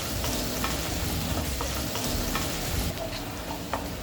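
Finely chopped onion sautéing in oil in a pan for a Gujarati okra dish, giving a steady close sizzle with faint occasional taps of a spoon.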